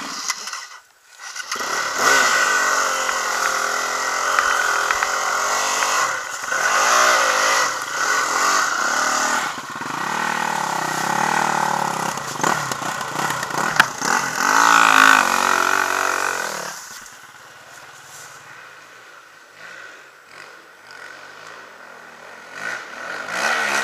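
A motorcycle engine revs hard during a wheelie, a loud sustained mid-range roar with shifting pitch for about sixteen seconds before dropping away to quieter idling and background noise.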